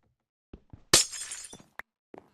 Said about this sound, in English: Break that out. My glass panes.